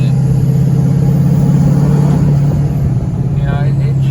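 A hood-stacked Duramax diesel truck with a ZF6 transmission and a performance tune holds a steady 2,000 RPM with no boost, producing a loud, close, continuous low engine drone.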